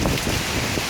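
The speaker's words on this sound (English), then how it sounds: "The sustained winds have definitely increased. The gusts are definitely hurricane force." Hurricane Dorian's hurricane-force gusts in Halifax, Nova Scotia, roar as loud, continuous buffeting wind noise across the microphone, with a rain-like hiss throughout and no voices.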